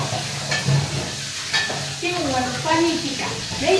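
Gujarati-style tempering for a paneer curry sizzling steadily in a pan, with stirring scrapes and hissing throughout at close range, and no talking.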